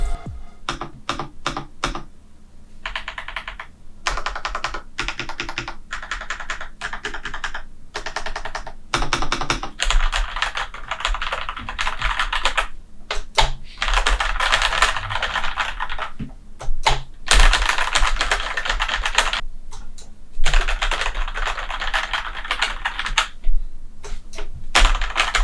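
Rapid, continuous typing on a Yunzii QL75 mechanical keyboard, a 75% RGB board, with dense clacky keystrokes in quick bursts and brief pauses, close up and alone without talk.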